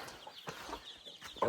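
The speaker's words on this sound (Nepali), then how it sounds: "यहाँ चल्ला पनि छन् हाम्रो चल्लाहरू" Chicks in a Nepali village chicken coop, fifteen newly hatched by a hen, give short faint peeping calls over light background noise, with a few soft clucks from the hen mixed in.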